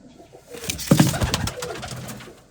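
A female pigeon gives a soft, throaty coo up close, a low rolling call lasting about a second against faint background rustle.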